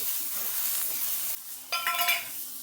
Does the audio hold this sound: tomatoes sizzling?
yes